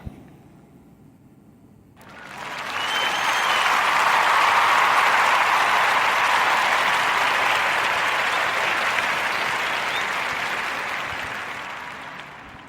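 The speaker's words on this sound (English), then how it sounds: "Round of applause for David Brenton and his wife Loretta's" Applause from a podcast audience for a guest couple swells abruptly after a quiet opening, then holds as a broad, steady roar of many clapping hands before slowly tapering near the end.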